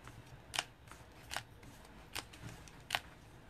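Tarot cards handled to pick out The Empress card, with four short, soft rustling card snaps spaced about a second apart over quiet room tone.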